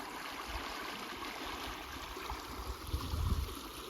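A creek runs through a valley behind Yamnuska in the Rockies. The water makes a steady, close rush with gurgles, and a brief louder splashing surge comes near the end, with no voices.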